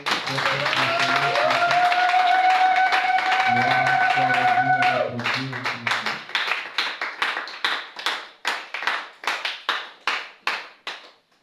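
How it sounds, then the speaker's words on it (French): A church congregation claps, first under loud sung or spoken voices and sustained music, then a run of sharp, spaced rhythmic hand claps that slow and fade toward the end. "Est-ce qu'on peut acclamer encore"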